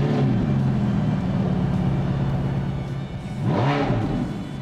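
A Ferrari F43 driven in sport mode on Singapore roads gives a steady, loud engine drone, rising in pitch as it accelerates near the end, with no talk over it.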